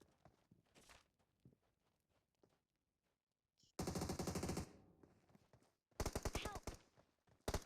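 Loud bursts of automatic gunfire from the PUBG Mobile game come in two long sustained volleys, with soft footsteps and faint speech in the quieter stretch before them.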